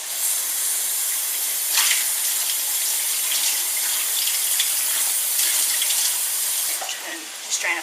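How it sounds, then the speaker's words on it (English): A kitchen sink tap runs steadily over a hot pan used for cooking spaghetti Bolognese mince, giving a continuous hissing water rush with brief louder splashes, close and fairly loud throughout. "So I'm just going to rinse this off in the sink."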